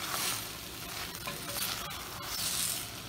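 Boiled potatoes being stirred into a frying curry in a pan, with a steady sizzle and scraping stir strokes throughout, close and fairly loud, no talking.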